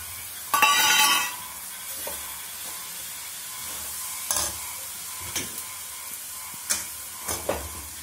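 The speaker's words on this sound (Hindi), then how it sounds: "अब हम चीनी डालेंगे। अब डालेंगे नारियल पाउडर।" Sugar and coconut powder are added to a pan for coconut ladoo, starting with a loud grainy pouring rush. Softer scraping and stirring follow, with a few sharp clinks and taps of a spoon against the pan, and no voices.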